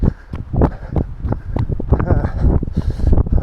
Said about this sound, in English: Gee, I hope you're going to be able to hear me over that wind